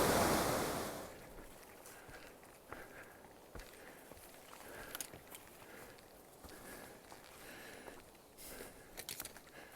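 A river rushes beside a Pacific Crest Trail crossing: broad, steady water noise that is loud at first, then settles into a softer continuous wash with occasional footsteps and light wind.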